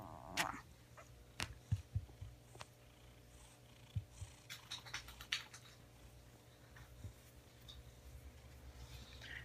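A cat purrs softly and close in a quiet room, a low steady rumble broken by a few light taps and clicks.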